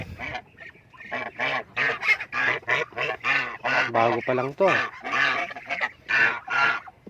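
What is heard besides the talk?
goose honking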